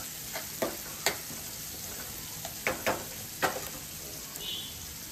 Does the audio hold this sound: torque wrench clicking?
no